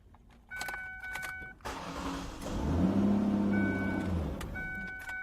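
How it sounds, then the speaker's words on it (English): A car started with a newly programmed key: warning chimes beep in sets, then the starter cranks and the engine catches, settling into a loud steady idle before the chimes return. "looks like all the keys start the car"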